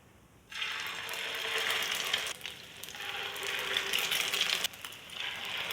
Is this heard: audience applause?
no